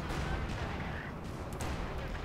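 Artillery and gunfire from the video game Company of Heroes 2 during a Soviet campaign castle assault form a faint, dense barrage of blasts and shots that rumbles continuously throughout.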